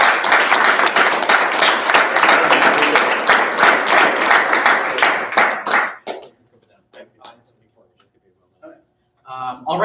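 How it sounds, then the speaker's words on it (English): An audience at a student government meeting breaks into loud, dense applause that holds for about six seconds and then stops abruptly, leaving a few stray claps and brief speech afterward. "Please join me in giving him another round of applause"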